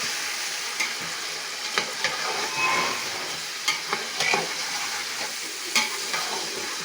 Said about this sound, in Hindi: तो अच्छे से हम इसको फ्राई करेंगे।